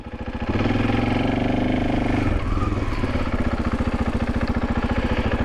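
Husqvarna FE501s motorcycle with a Rekluse clutch pulling away from a stop in first gear, its single-cylinder engine rising from idle into a loud, close, pulsing thump that stays steady and rhythmic as the bike rolls on.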